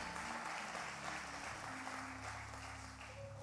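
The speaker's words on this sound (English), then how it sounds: "let's give Kara a hand clap offering" A Palm Sunday church congregation gives a hand clap offering, a dense wash of applause over a faint background hum, steady and moderately near, with no one speaking.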